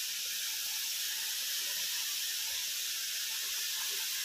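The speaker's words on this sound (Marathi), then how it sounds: "तर अशा प्रकारे आपण छान असं परतून घेत आहोत" Vegetables sauté in a pan with a soft, continuous hissing sizzle, steady and moderately quiet throughout, with no voices and no distinct stirring strokes.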